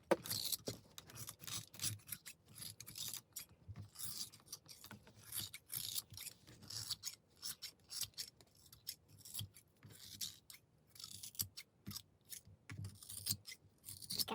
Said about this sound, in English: And then we'll go in and cut her hair off.